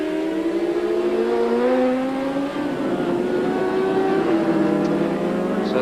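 750cc Formula One race motorcycles in the 1991 Donington Park TT Shell Oils ACU Supercup near the start-finish line: a loud, continuous, layered engine whine with several harmonics that rise and fall as the bikes rev and shift.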